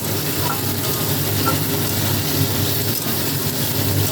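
Masala spice paste fries in a pan for fish curry, a steady close sizzle with faint stirring scrapes and no talk.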